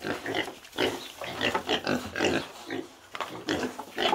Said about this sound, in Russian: в грязных лужах плещутся свиньи